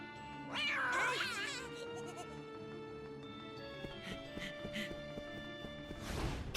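A cat meows and caterwauls in the Kingdom Hearts Birth By Sleep video game, a drawn-out wavering cry near the start over a steady game music bed, followed by a noisy burst at the end.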